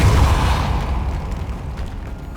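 A Repulso spell blast in Hogwarts Legacy, a loud booming burst at the start that trails off into a fading rumble.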